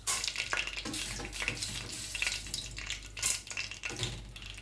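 Chana dal sizzles in hot oil in a pan while cooking puliyotharai, giving a steady frying hiss with stirring scrapes and occasional louder crackling surges, close and continuous.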